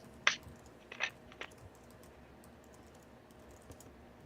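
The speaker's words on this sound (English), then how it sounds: "Oh, I hear the keyboard." A few scattered keystrokes on a computer keyboard, faint, sharp clicks with long gaps between them over a quiet background hiss.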